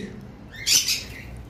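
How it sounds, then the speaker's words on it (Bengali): Pet lovebirds, parblue and green opaline pairs in a cage, let out one short, shrill squawk in the middle of an otherwise quiet moment. "ভিউয়ার্স দেখতে পারতেছেন এখানে তিন জোড়া পাখি, এক জোড়া পারবলু,"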